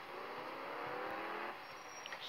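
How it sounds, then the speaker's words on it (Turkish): Bentley engine in the driving game Driving School 2017, a continuous smooth engine drone holding steady for about two seconds at moderate level with no talk over it. "Arabanın sesi müthiş."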